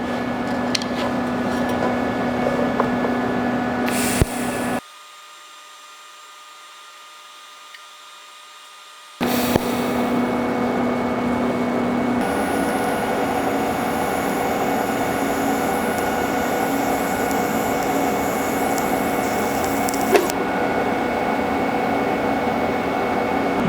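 Steady hissing electric hum of TIG welding on a custom exhaust tube for a 1967 Plymouth Barracuda, running continuously apart from a short silent pause partway through, with no talking.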